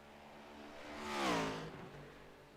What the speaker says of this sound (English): So we're going to see that number 38 machine hauling around the raceway, trying to catch up to the cars up front.